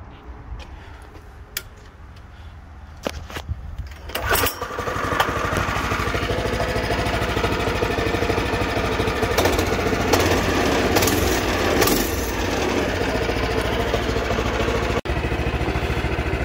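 A small low-budget go-kart engine sputters to life, then settles into a loud, steady rattling drone that runs close by and alone for the rest of the span.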